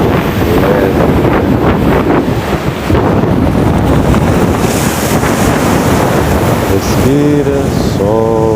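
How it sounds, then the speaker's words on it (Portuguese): Sea waves and wind at the shore on a pleasant Miami evening, a loud steady wash of surf with heavy wind buffeting the microphone, close and continuous. "Você apenas se envolver nesse som, nessa leveza, da natureza, o vento e o mar."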